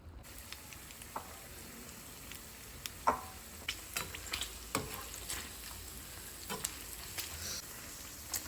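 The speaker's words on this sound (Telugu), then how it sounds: "కొంచెం ఆయిల్ హీట్ అయ్యాక నేను ముందుగా రెడీ చేసుకున్న పన్నీర్ని దీంట్లో వేసేసి వేయించేస్తున్నాను" Paneer pieces frying in hot oil for paneer 65 biryani, a soft steady sizzle with faint scattered pops and ticks, quiet and close with no talking.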